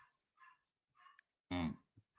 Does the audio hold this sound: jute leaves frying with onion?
no